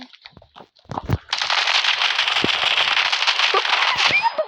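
Automatic gunfire in the mobile shooter game Standoff 2, a continuous rattling burst lasting about three seconds, loud and close, after a few brief spoken words and clicks.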